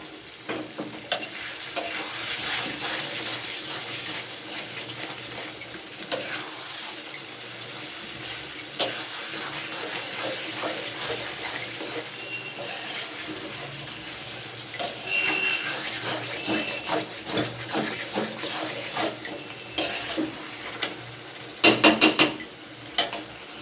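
Spiced new potatoes for aloo dum are stir-fried in a pan, with steady scraping and clinking of a spoon against the metal over a continuous sizzle that grows livelier near the end.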